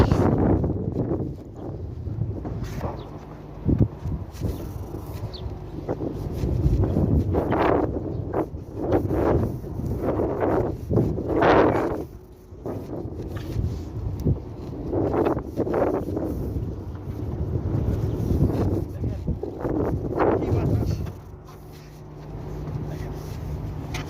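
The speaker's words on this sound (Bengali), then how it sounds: "প্রচন্ড পরিমাণ বাতাস, প্রচন্ড পরিমাণ বাতাস।" Strong wind buffets the microphone in loud, uneven gusts, with low rumbling bursts rising and falling throughout.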